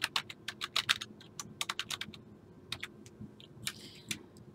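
Rapid bursts of typing on a computer keyboard while filling in a college application form, crisp close key clicks in irregular runs with short pauses, no voices.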